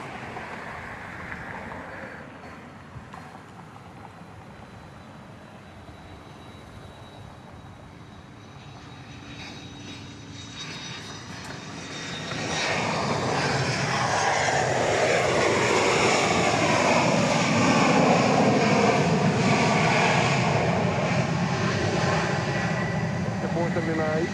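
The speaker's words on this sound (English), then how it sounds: "Gulfstream G450 arriving from Denver, Colorado" A Gulfstream G450 business jet arriving from Denver at Dallas Love Field at night, its engine roar swelling from a distant hum to a loud, sustained rush as it nears, with talk faintly underneath.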